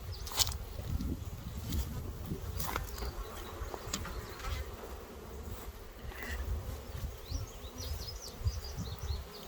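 Honey bees buzz steadily around a hive box, a low droning hum with scattered insect flybys and a few soft clicks nearby.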